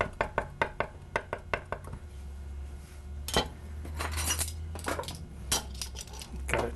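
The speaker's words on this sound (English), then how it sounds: "Going to just give this a nice fine chop. I want to mince this down fairly well." A knife chops fresh tarragon on a cutting board, a quick even run of close, crisp taps that gives way to scraping, clinking kitchen noise.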